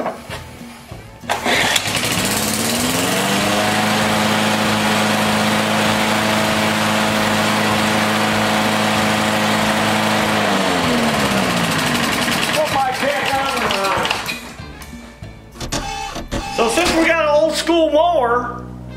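A Briggs small engine fitted with a newer style carburetor starts and runs, a loud steady droning hum with a shifting pitch, then sputters down before revving again with someone talking over it.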